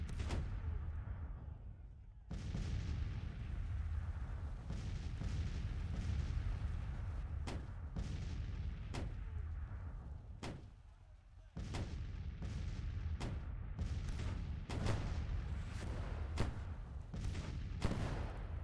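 Cannon blasts from artillery in the Grand Tactician Civil War strategy game boom repeatedly over a dense, rumbling battlefield bed, with sharp distant shots scattered irregularly throughout and a brief lull midway.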